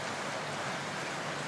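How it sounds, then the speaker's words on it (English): Steady rain hisses as it starts to fall, a soft, even wash of drops with no voices. "Oh, it starts raining. Listen to that."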